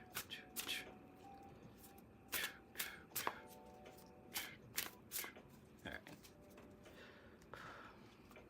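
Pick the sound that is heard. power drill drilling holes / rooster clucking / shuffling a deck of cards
shuffling a deck of cards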